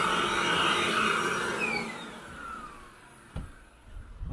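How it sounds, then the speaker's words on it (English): A vacuum cleaner pulls dry soil from carpet with a loud, steady whoosh that thins and fades partway through, followed by a few sharp knocks near the end. "I'm gonna vacuum this top half"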